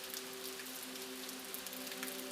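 Steady rain pattering on a surface, a dense, even hiss of close drops that continues unbroken at a soft, constant level with a faint hum beneath and no voices.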